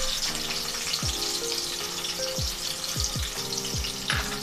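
Onion frying in a large spoonful of hot oil for a prawn masala, a continuous loud sizzle with several dull clunks of a spoon stirring at intervals, no one speaking.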